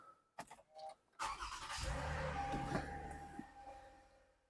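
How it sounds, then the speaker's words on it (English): A Toyota Highlander engine cranks and fires after a spark plug replacement, a few short starter bursts followed by a steady, smooth idle, close and fairly quiet. "And we are going to start it up here."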